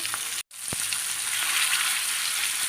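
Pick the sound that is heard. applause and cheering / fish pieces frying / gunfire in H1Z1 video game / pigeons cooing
fish pieces frying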